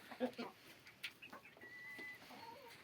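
Chickens cluck softly and intermittently at a winter dacha, with a young black cockerel among them, the calls close but quiet, mixed with light rustling and brief human voices.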